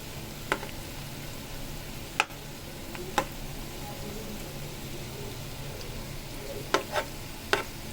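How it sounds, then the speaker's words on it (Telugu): Bitter gourd frying in oil for a curry gives a steady, soft sizzle throughout, broken by a few sharp, isolated clicks from a utensil against the pan. "ఇలా నూనెలో ఫ్రై అవ్వాలి."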